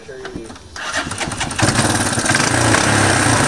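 A Suzuki ATV engine, just repaired by welding, cranks and catches, then settles into a steady, loud running note that holds close by to the end.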